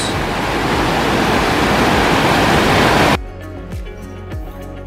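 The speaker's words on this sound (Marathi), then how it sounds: "असं खळखळणारं फेसळणारं पाणी पाहणं म्हणजे नशीबच" Foaming stream water gushes on the Rajmachi Fort trek near Lonavala as a loud, continuous, close rushing roar. It cuts off abruptly after about three seconds, leaving quieter outdoor ambience with a few soft bumps.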